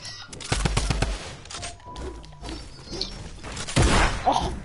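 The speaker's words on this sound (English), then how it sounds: "I'm in with shotgun." A PS4 shooter game plays a rapid burst of gunfire with shotgun blasts, sharp repeated reports clustered early, followed by scattered mechanical clatter and further impacts, loud and close, with no talking.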